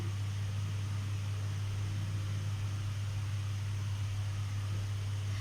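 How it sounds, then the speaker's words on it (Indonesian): Steady electric fan whirring close by with a strong low hum and a constant airy hiss, unchanging for the whole stretch with no voices over it. "Ini ada suara kipas angin ya."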